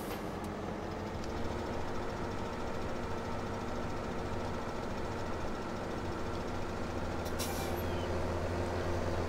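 Steady low engine drone of a forage harvester driving in Farming Simulator 17, constant and fairly close, with a brief hiss of air near the start and again near the end.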